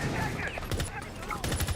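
Rapid bursts of gunfire from a Rainbow Six Siege esports match, clustered shots at the start and a denser volley near the end, heard under a caster's voice and crowd-like background noise.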